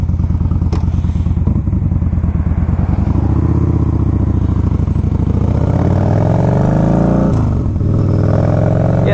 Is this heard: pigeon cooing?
no